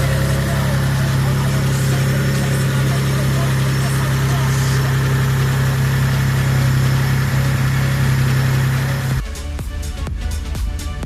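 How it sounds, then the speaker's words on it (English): A 1991 Mitsubishi 3000GT VR-4 running E85 sits at warm idle, a loud, even low drone for most of the clip before it cuts off abruptly near the end, leaving sharper clattering sounds. "Warm idle."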